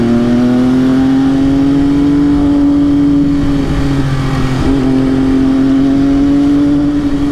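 An MV Agusta F3 800 sport motorcycle's engine drones loudly while riding at moderate speed, a steady high-pitched tone that dips briefly as the rider shifts gears, with heavy wind rush and no talking.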